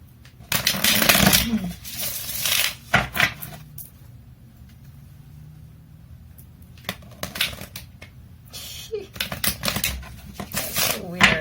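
A deck of tarot cards is shuffled up close in quick, papery riffling bursts, one cluster early and another later, separated by a quieter stretch.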